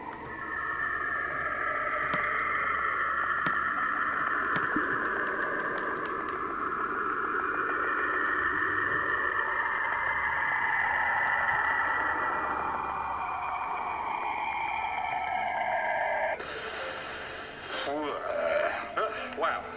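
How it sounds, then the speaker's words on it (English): Natural radio waves around Saturn recorded by the Cassini spacecraft, shifted down into hearing range: a steady, eerie wavering hiss-like drone with sweeping tones, becoming brighter and more chattering near the end, with no voices. "scientists have explained this sound as natural radio waves passing along the magnetic field line of Saturn"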